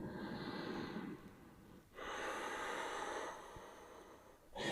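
Slow, audible breaths drawn in and let out during a gentle hatha yoga practice, close and soft, with a pause between phases and a sharper intake at the end; no talking.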